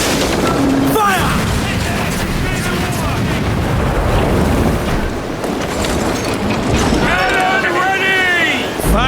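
Ship cannons firing in a naval battle in Assassin's Creed Black Flag, heavy booming blasts rolling over constant loud sea and battle noise, with voices shouting commands over the din.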